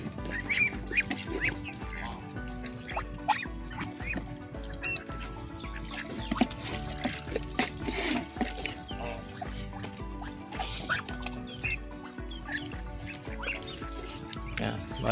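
Ducks and native chickens in a backyard farm honk, quack and cluck continuously during feeding, a busy close flock chorus with overlapping calls and no talk.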